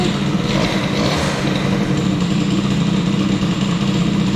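A tuned small-cylinder moped engine warms up on a Fox Origine with a BOOST cylinder head, idling in a loud, steady, buzzing drone that stays close and even throughout with no talking.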